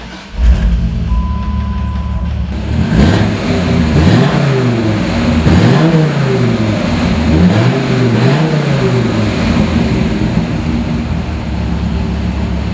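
A 2004 Dodge Viper SRT10 roadster engine cranks and fires, then blips through several rising and falling revs before settling into a loud, steady rumble close by.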